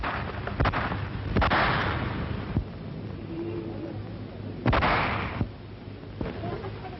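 Sharp gunshots crack in archival footage of the 1944 liberation of Paris, a few scattered reports with echoing tails over a constant hum and rumble, rising out of the background and fading.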